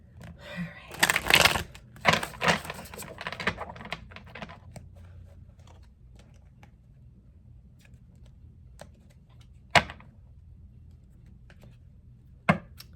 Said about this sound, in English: Sometimes it's hard to get all the cards shuffled the way that I want them to be.